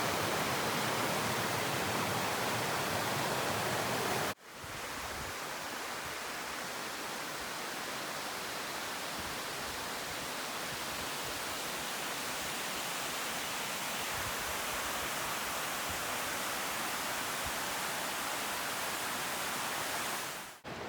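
Fox Creek flowing beside a hiking trail makes a steady, dense rushing hiss of running water, even and continuous, with a brief break partway through and no voices.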